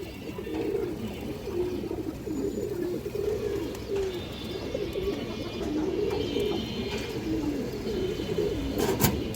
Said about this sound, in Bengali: একদম র একটা পাঙ্খি কবুতর দর্শক